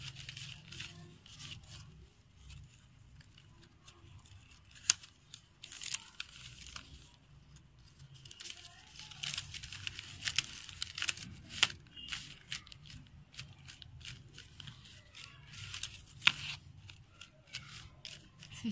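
Scissors snip through paper during a children's art activity, a steady run of close, crisp cuts and crinkles over several seconds with no talking.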